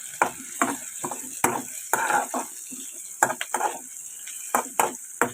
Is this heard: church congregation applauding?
no